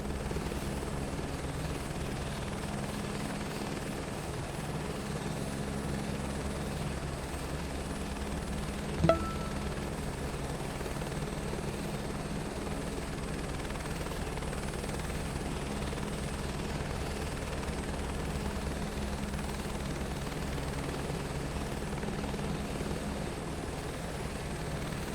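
Steady, loud helicopter-like rotor and engine drone of an aircraft landing in Microsoft Flight Simulator 2024, unchanging throughout with one brief ping partway through, no voices.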